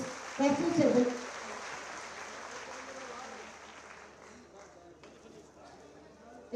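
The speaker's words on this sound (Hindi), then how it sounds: "बहुत जोरदार तालियां" An audience applauds at a Maha Kumbh ceremony for sanitation and health workers in Prayagraj, a broad wash of distant clapping under an amplified voice that briefly talks over it, thinning out toward the end.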